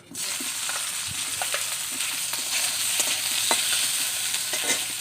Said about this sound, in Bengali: এখন আমি আলুগুলিকে ভেজে নেব।